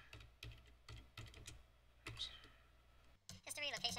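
Fingers type code on a computer keyboard in quick bursts of clicking keystrokes, close and crisp, pausing between runs before a voice starts talking near the end.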